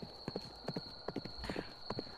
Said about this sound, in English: I'm tired of all this horse riding.